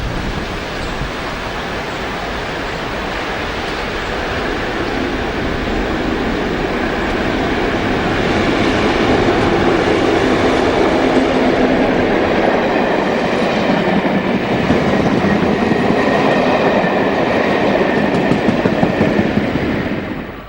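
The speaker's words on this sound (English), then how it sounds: "The distinctive front end of the 73 approaches Acton Central along with the rest of it in May 2011." A British Rail Class 73 locomotive approaches Acton Central station with a train and another diesel on the back, a loud, steady rumble and rail roar that swells gradually as it nears, with no talk.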